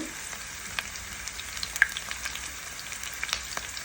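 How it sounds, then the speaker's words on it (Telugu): Onions and green chilies frying with whole spices in a pan for Telangana bagara rice, a steady close sizzle with scattered pops and light stirring scrapes, no voices. "కొంచెం పుదీనా, కొంచెం కరివేపాకు వేసి బాగా వేయించండి"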